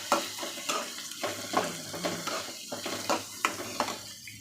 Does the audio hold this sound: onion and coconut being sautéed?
yes